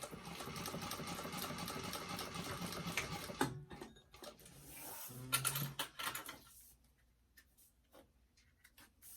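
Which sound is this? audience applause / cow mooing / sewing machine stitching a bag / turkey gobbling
sewing machine stitching a bag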